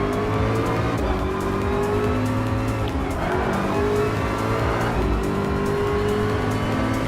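Ford GT LM Spec II test car, a Gr.3 race car, in Gran Turismo Sport, its supercharged engine droning loud and steady throughout with shifting harmonic pitch and a brief tire squeal.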